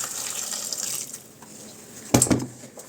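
Hot water pours briefly from a tap into a multicooker pot, a short splashing gush near the end after quieter kitchen sounds.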